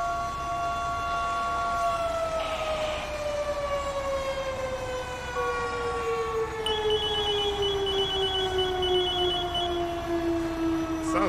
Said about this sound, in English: Somebody's siren just turned on.